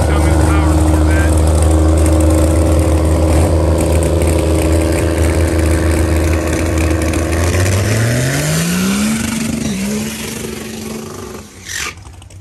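Loud racing powerboat engines roaring and droning close by, one note rising sharply in pitch as a boat accelerates near the end, with a crowd and announcer din beneath.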